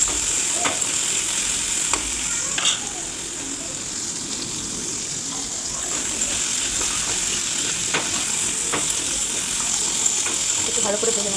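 Potatoes fry in oil in a pan, giving a continuous close sizzle and hiss with occasional clicks from stirring.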